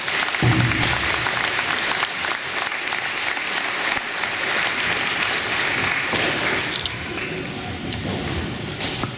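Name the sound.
audience applause for veterans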